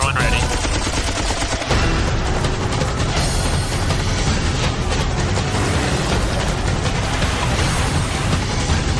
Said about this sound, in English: Warning shots authorized. Fire one ready.